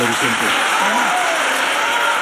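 Dense, sustained applause from a large television studio audience, steady and loud throughout, with a voice briefly audible at the start.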